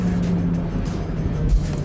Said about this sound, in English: So now the middle pipe on the exhaust actually lets more noise go through.